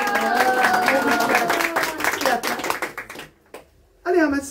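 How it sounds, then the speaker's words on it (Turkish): A crowd applauds a young boy hailed as the day's champion, a dense burst of clapping lasting about three seconds before it fades out, with a voice speaking over it and again at the end. "Alkışlayalım."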